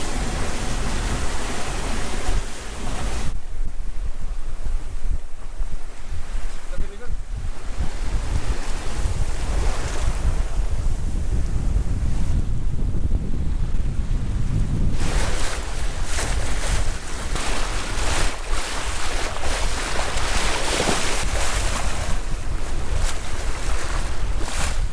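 Steady, loud rush of wind and breaking waves aboard a sailboat reaching at about seven knots in 15-knot beam wind, with constant microphone buffeting and surging water and no voices.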